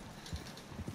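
Horse hooves clip-clopping in the Red Dead Online game, a few soft irregular thuds close by under a faint game background, no talking.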